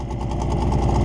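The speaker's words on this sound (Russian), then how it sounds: "15 минут и работаем на холостых" A Suzuki 9.9A/DT15A outboard motor idling just after its first start, with its cooling water running. The engine gives a loud, steady, close low rumble with even pulsing throughout.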